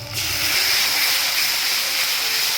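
Ginger, garlic and green chilli paste drops into hot oil in a pan with browned onions and bay leaves, giving a sudden loud, steady hiss of frying that carries on without pause.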